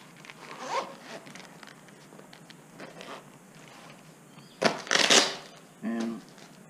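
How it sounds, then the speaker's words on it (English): A zipper on a bike-mounted phone bag for a RadRover e-bike is pulled shut in a few quick, close, loud rasping strokes, with softer fabric handling and rustling before. "zip it up,"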